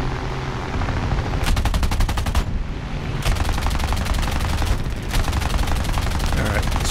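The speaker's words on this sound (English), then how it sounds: "let's just get a few shots into him" Rapid machine gun bursts from a CR.32 quater biplane in the video game War Thunder, air arcade mode, fire loud and close in several long strings over a constant engine drone.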